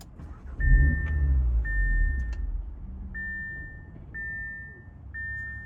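An Audi RS3 running on E85 fuel cranks and fires into a loud low rumble, then settles to a steady idle. A repeating high electronic chime beeps intermittently over the engine.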